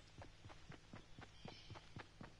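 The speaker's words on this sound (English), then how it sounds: "I can hear somebody's footsteps." Rapid footsteps from a Fortnite player run in a steady, even rhythm, about ten soft thuds over a low hum, with no talking.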